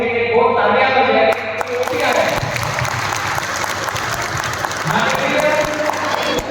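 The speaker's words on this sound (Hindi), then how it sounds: "बहुत सारे बच्चे लोगों के लिए जो आए हैं उनके लिए बहुत तालियां बजाएं" A crowd at a church retreat in Ranchi, Mandar, claps loudly and continuously for the children present, with voices mixed into the applause throughout.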